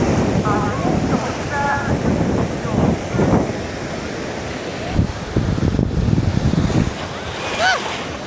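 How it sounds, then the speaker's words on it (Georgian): Strong sea waves breaking on Tel Aviv beach make a loud, continuous roar of surf, with heavy wind buffeting the microphone and faint distant voices behind. "ისეთი ძლიერი ტალღებია, რომ აი ეხლა სამ პატარამ რამის წამაქცია."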